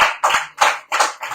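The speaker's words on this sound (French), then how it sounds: "Applaudissez-la" A handful of claps for Carole in a radio studio, five crisp bursts spaced in an uneven rhythm, close and fairly loud with quiet gaps between them.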